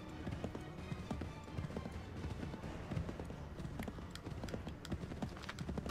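A horse gallops in the video game Assassin's Creed 3, its hooves giving a quick, steady clip-clop that runs throughout, fairly faint and with no talking.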